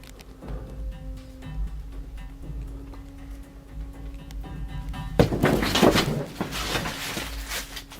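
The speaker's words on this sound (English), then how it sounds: "They sound either like a fist pounding against a wall or floor, or very heavy footsteps" Dull thuds and knocks, like a fist pounding a wall or floor or heavy footsteps, ring out from another room against a low hum, with a louder burst of heavy banging partway through, then fainter knocking.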